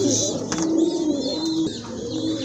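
A pair of Jacobin pigeons coos softly and steadily at close range, with low throaty tones continuing throughout.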